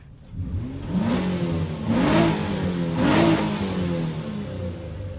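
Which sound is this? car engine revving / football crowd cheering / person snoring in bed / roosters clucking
car engine revving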